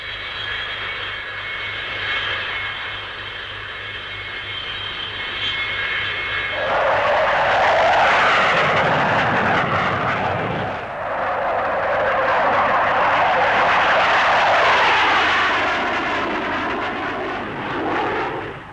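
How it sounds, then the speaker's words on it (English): A Vickers N113 carrier-borne naval fighter bomber at a 1950s Farnborough airshow: a steady jet whine gives way to a loud, roaring pass that swells, dips briefly, then roars again before fading. "The Vickers N113 is a single-seat carrier-borne naval fighter bomber."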